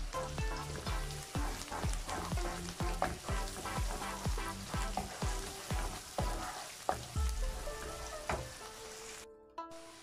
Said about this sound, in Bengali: আদা আর পেঁয়াজটা অনেকটা ভাজা হয়ে গেছে